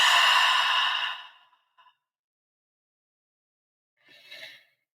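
Slow, deep breath out during guided breathing, a long airy exhale that fades over about a second and a half, followed by silence and a fainter, shorter breath.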